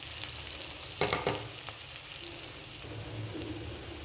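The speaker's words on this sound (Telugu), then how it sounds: "మనం కొంచెం అల్లం వెల్లుల్లి పేస్ట్ వేసుకొని కూడా ఫ్రై చేసుకోవాలి" Ginger garlic paste frying on a low flame for potato curry, a soft steady sizzle with a couple of louder scraping stirs about a second in, then a continued gentle crackle.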